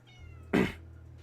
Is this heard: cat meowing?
yes